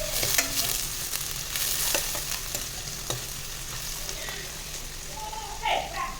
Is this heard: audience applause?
no